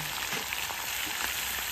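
Chicken meat and onion fry in a wok, a soft, steady sizzle with faint stirring sounds, fairly quiet and without talk.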